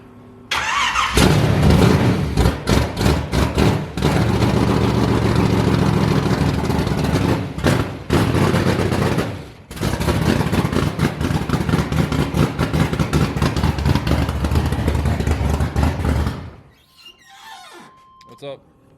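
A nitrous 454 street truck engine cranks, fires and runs with a loud, rough idle, cutting out briefly before catching again, then shutting off near the end, with voices talking over it.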